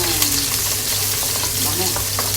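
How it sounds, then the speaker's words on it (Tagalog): Onion sizzles loudly in a hot frying pan, a steady bright hiss and crackle with faint stirring scrapes, close and continuous. "Ilalagay ko lang itong onion."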